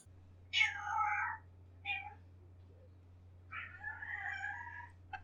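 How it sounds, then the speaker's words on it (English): A studio cat meows insistently indoors: a drawn-out meow, a short chirp-like one, then another long meow, all fairly quiet over a steady low electrical hum. "the studio cat is being incredibly obnoxious right now unless I am petting him"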